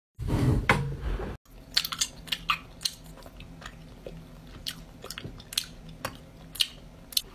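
Gum being chewed, with a loud rustle at the start followed by a run of small, close, irregular wet clicks and crunches. The chewing continues steadily without any voices.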